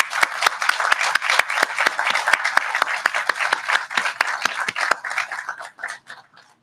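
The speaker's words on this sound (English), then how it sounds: "give them a round of applause." Audience applause at a 2021 family medicine residency graduation ceremony in Ocean County: a steady round of many hands clapping with sharp individual claps, fading out toward the end.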